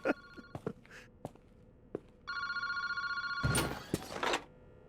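Phone booth in a park ringing in the video game Paranormasight, a loud electronic ring that comes after a few light footsteps and knocks, close and alone, without any talking.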